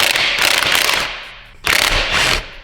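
A ratchet wrench loosens a motor mount on an Evo 10 engine, giving two close bursts of rapid clicking separated by a short pause.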